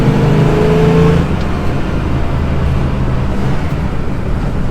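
A 1968.5 Ford Mustang GT 428 Cobra Jet V8 pulls hard after a downshift, a loud, close engine roar with a brief rising note at first, then a steady heavy rumble and road noise inside the car.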